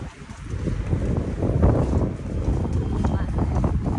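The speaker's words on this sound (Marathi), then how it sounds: "वारा आहे वारा" Steady wind buffets the microphone outdoors on a street beside a new clothing shop, a continuous low rumbling roar throughout with muffled voices mixed in.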